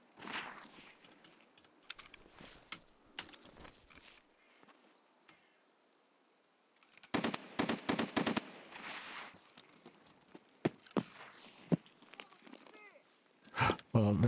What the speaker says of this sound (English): That wasn't them shooting at me, was it?